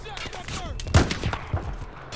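Bullets shredding cover during a Battlefield 4 campaign firefight: a few sharp cracks and bursts, one loud close impact near the middle, with whooshing debris and scattered fainter shots around it.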